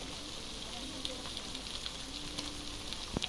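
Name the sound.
ginger and onion paste frying for chicken curry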